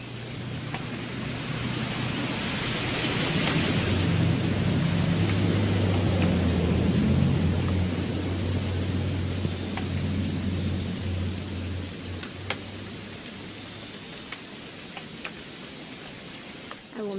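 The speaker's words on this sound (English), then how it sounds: "It's gonna rain the whole weekend" Rain and rolling thunder in the video game What Remains of Edith Finch, a steady loud downpour hiss with a deep low rumble swelling through the first half and then fading, and a few scattered drips later on.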